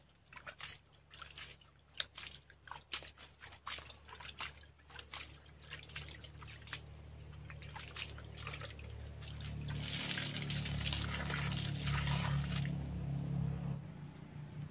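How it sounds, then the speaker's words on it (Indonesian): Water poured onto dry bonsai soil, starting as a patter of scattered drips and trickles and then swelling into a steadier, louder pour near the end, close by with no talking. "kasih air, kita siram ya."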